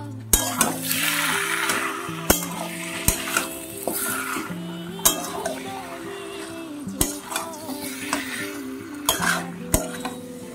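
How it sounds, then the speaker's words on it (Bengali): Mutton frying with spices in a pan, a steady sizzle under repeated scraping and clinking of a metal spoon against the pan, close and fairly loud throughout. "এদিকে মাটনটা কষানো হচ্ছে"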